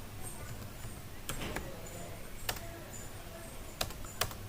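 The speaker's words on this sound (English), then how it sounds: "let me type some basic C program." Someone types a basic C program on a computer keyboard, with quiet, irregular keystroke clicks that come in small clusters over a low background hum.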